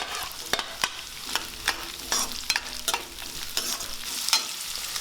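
Carrots and beans for vegetable noodles sauté in a hot pan, a constant sizzle broken by sharp scraping stirs from a utensil at irregular intervals, close and fairly quiet with no talking.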